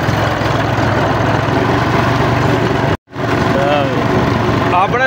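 A tractor engine idles in Punjab, Pakistan, with a steady, loud, low throb. It cuts out briefly partway through, then resumes, and a voice is heard faintly over the running engine near the end.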